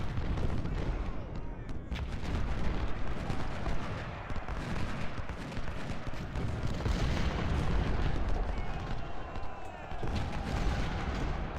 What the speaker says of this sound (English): Shoot at Williams